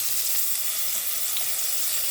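Round eggplant slices dropped into hot oil sizzle and fry with a steady, bright crackling hiss, close and continuous, no voices.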